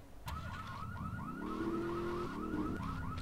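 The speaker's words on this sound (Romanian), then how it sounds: "Sper că îi se oprește alarma." Car alarm in the video game GTA III, a rapid warbling electronic whoop cycling steadily, joined midway by a steady sustained tone, heard at moderate level without talk.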